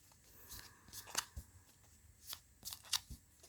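Playing cards being shuffled in a few quick riffling bursts, soft and close, with brief pauses between them and no voices.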